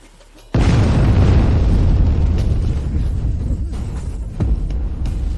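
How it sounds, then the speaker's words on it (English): A loud explosion bursts suddenly, then a heavy rumbling roar and crackle of fire that holds steady for several seconds, set in a period drama ambush within a dense eastern forest canopy; no voices. "Once the explosion sounds, the fire will draw all their attention."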